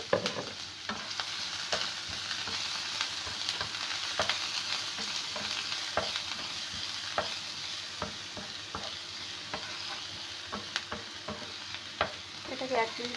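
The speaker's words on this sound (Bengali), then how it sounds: "তেলটা গরম হয়ে গেছে, এরপর দিয়ে দিচ্ছি একটু বড় সাইজের পেঁয়াজ কুচি।" Chopped onions, cut a little large, sizzle and crackle in hot oil in a pan, a steady close frying hiss with scattered pops and occasional stirring clatter throughout, with no talking.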